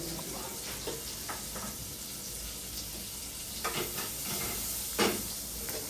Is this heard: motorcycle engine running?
no